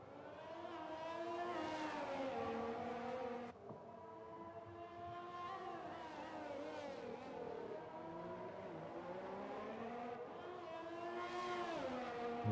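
A Formula 1 car in the F1 2020 video game screams through a qualifying lap at the Hungary circuit, its high-pitched engine rising and falling steadily through upshifts and downshifts, loud and continuous with no talk.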